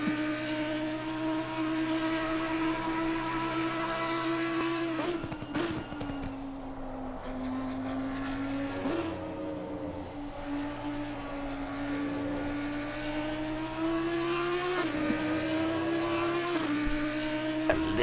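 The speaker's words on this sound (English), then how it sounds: "Listen to that car going up to 130R. It's such a good sound." An Audi race car in a simulated eight-hour endurance race at Suzuka, heard from a chase camera, holds a loud, steady engine howl throughout, with a few brief dips and surges as it shifts gears.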